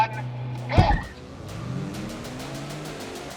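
An Audi RS4 and a Porsche Cayenne launch side by side in a drag race, a sharp burst of engine roar followed by a fading rising drone as the cars pull away into the distance.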